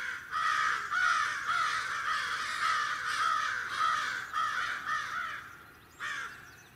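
A group of crows caws harshly and repeatedly while mobbing a great horned owl, a raucous, overlapping chorus close by with no break.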